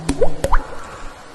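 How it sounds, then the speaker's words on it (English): Water drips in quick plinking drops, two or three close together, clear and near in a quiet space. "A single droplet drizzles down."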